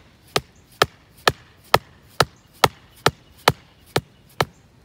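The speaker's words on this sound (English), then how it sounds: "And you just hammer that in." A plant support stake being hammered into garden soil beside a young potted plant's root ball: ten sharp, evenly spaced strikes at a steady rhythm, close and loud, with no talking.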